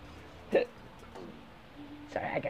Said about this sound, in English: Sorry, I got hiccups.